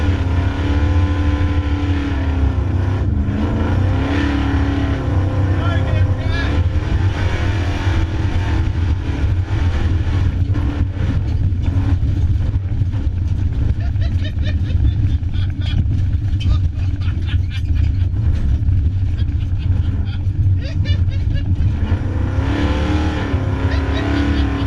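A muscle truck engine revs hard during racing, a loud, steady roar with rising and falling pitch that holds through the whole stretch, with voices talking over it.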